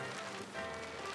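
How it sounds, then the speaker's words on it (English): Rain pours steadily during a garden shed kit build outdoors, a dense even hiss of drops on surfaces with no pauses, moderately loud and close. "a rainstorm breaks out"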